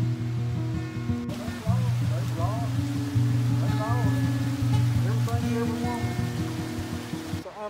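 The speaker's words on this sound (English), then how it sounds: "here's some faster, swifter water than what we've walked through already" Swift water in Eagle Creek rushes in a constant, close wash, with a voice talking over it.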